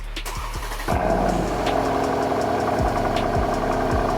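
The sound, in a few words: Mercedes C63 AMG V8 engine cold start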